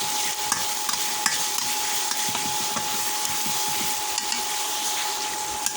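Prawns fry in hot oil with drumstick stalks in a pan. A constant, close sizzle runs throughout, broken by light scraping and clacking as the pan is stirred, over a faint steady hum.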